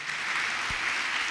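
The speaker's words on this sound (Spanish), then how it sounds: "Los que lo creen, denle un aplauso al Señor." A short burst of clapping from a church congregation, steady and dense for just over a second.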